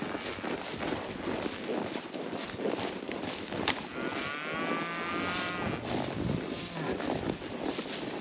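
A big calf moos loudly and close by on open rangeland, a long drawn-out low call over rustling and movement noise.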